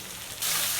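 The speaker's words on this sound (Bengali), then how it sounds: "টমেটোটা একটু ভেজে নেবেন।" Chopped tomato sizzling in hot oil in a pan for a mustard katla fish curry, a steady close frying hiss that jumps louder partway through and continues alone.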